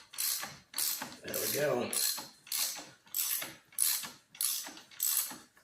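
A hand ratchet tightening bolts on a motorcycle, seven loud close bursts of clicking in a steady back-and-forth rhythm with short pauses between strokes; someone speaks briefly.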